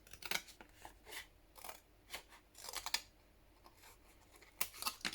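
Scissors snip and trim paper for a handmade letter-rack journal, a series of short, crisp, close cuts spaced irregularly across a quiet room, with no voices.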